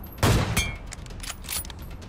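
Gunfire in PUBG Mobile, a sniper match: a loud, sharp shot rings out near the start, a second follows about a third of a second later, and quieter reports trail off over the rest.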